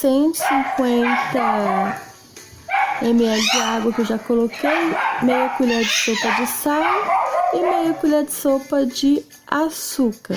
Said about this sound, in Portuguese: Desculpa o barulho dos cachorros aí